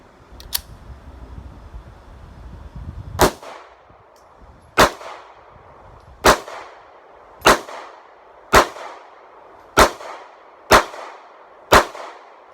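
A Smith & Wesson M&P Shield 9mm pistol fires from 8-round magazines at a range. Eight loud, sharp shots come at a steady pace about a second apart, each with a short ringing decay.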